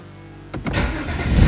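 A BMW engine that has been sitting with a dead battery cranks and catches right away, then settles into a loud, close, steady rumble.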